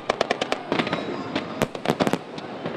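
A big WEBN fireworks show bursts in a rapid run of sharp, loud cracks and pops, some in quick clusters, with crowd noise rumbling beneath.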